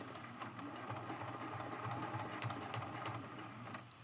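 A sewing machine stitching down applique on a mug rug, running steadily and close with a rapid, even needle rhythm throughout.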